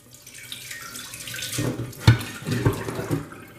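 Brine water shed by salmon is poured off into a sink, a steady splashing stream with a couple of sharper splashes, close and moderately loud, with no talking.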